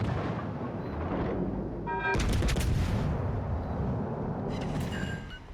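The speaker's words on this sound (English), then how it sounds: "See, that secondary guns can actually start firing now." Secondary guns aboard the premium battleship Okt. Revolutsiya fire in World of Warships Legends, a rapid burst of sharp reports over a constant rumble of battle. A second cluster of shots follows, ending with quieter rumble.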